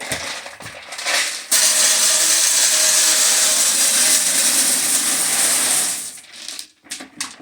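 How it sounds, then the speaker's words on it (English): Wood pellets pour into the hopper of a Liberator rocket stove as a loud, continuous rushing clatter lasting several seconds. Quieter handling knocks come before and after the pour. "Then I'll put my pellets in here."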